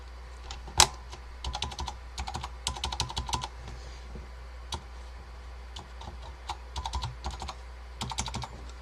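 Typing on a restored Focus FK-2001 keyboard with Alps switches, crisp clicky keystrokes in uneven bursts with brief pauses, close and clear, with no talking.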